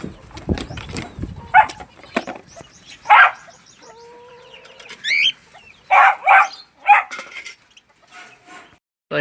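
Quail chicks peep in short, high, bright bursts, spaced irregularly with brief pauses between calls, close by and fairly loud.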